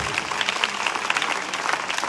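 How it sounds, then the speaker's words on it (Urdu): A church congregation at a Christian gathering in Islamabad, Pakistan, claps loudly in dense, sustained applause that fills the room, with a faint voice underneath. "زوردار تالیاں آپ خداوند کے جلال کے لیے بجائیں"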